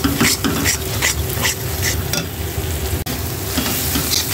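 Dried shrimp and onions fry in hot oil in a pan while being stirred: a steady close sizzle runs throughout, broken by regular scraping strokes of the spoon roughly every half second.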